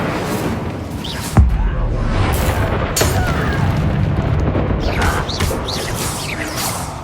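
An Incendio fire spell cast in the video game Hogwarts Legacy, a loud booming blast followed by a sustained crackling roar and further impacts during combat.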